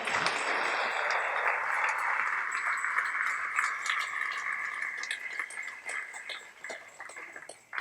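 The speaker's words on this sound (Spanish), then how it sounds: "Denle un aplauso al Señor." A church congregation applauds steadily across the whole stretch, a dense even wash of clapping that slowly thins and softens toward the end, with no voices over it.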